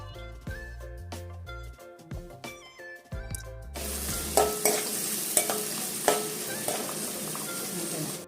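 Onions dropped into hot oil in a kadai for a Godavari-style fish curry, a harsh sizzling hiss that starts suddenly partway through and keeps going with occasional stirring clatters, close up after a quieter stretch of tonal sounds.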